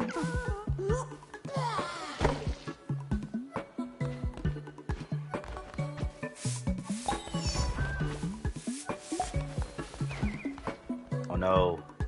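A donkey brays in a video game, a few loud honking, wheezing calls rising and falling over game sounds and hoofbeats while someone talks over much of it.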